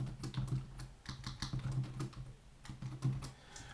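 Quiet typing on a computer keyboard while entering math commands, a steady run of soft key clicks with brief pauses, close and without talk.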